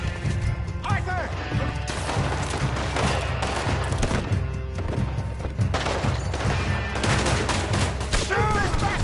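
Loud, repeated gunshots and crashing impacts from a shootout in the video game Red Dead Redemption 2, over busy game sound and shouting voices throughout.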